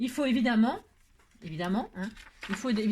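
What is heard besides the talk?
None of the usual background noises is heard.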